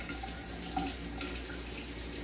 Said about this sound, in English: So I'll now be washing my hands.